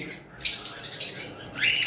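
A double red factor pineapple lovebird gives a few sharp, harsh squawking calls close by, short bursts separated by brief pauses, with no talk.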